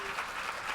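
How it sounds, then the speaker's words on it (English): Audience applause at an award luncheon for professional women and business leaders, a brief, steady wash of many hands clapping at moderate distance with no voices over it. "So audience, will you please join us in a collective round of applause?"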